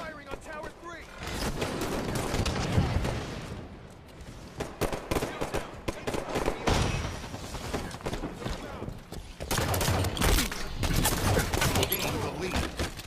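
Rockets and gunfire pound a tower in the Halo 5 Guardians video game, dense bursts of shots and blasts running almost continuously with brief dips, while voices talk over the battle.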